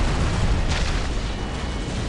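Bombs exploding in the Warhammer 40k strategy game Dawn of War Soulstorm, dropped by an Ork fighter-bomber: a dense, sustained roar of blasts and rumble running loud and unbroken throughout, with no speech.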